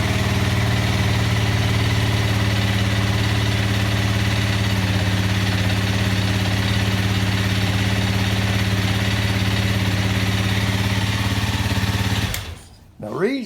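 A Honda 300L motorcycle engine idles steadily at 2,000 RPM with a low, even throb for most of the clip, then cuts off abruptly near the end.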